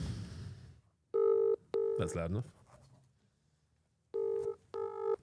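A phone's ringback tone sounds in two pairs of loud electronic pulses on speakerphone, separated by a pause. Someone speaks briefly between them.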